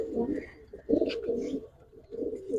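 A pair of Damascene checker pigeons in a loft give soft, close, throaty coos in repeated low bursts with short pauses between them.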